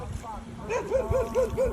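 A dog gives a quick run of about five high yipping barks nearby, fairly even in rhythm, over a low background murmur.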